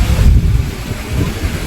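Strong wind buffets a microphone outdoors, producing a deep, rumbling roar with irregular gusty surges that stay loud for the whole short stretch, with no voices heard.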